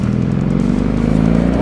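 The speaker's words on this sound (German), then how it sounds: "Der Auspuff." A BMW R18 motorcycle exhaust idles with a steady, loud, deep rumble, a continuous low-pitched engine throb held up close without any break.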